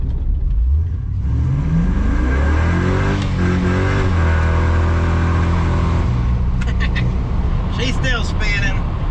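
LS-swapped S-10 pickup with an 8.8 limited-slip rear end and CalTracs, engine revving up hard as the tires spin, rising loud and close with clicks and a voice near the end.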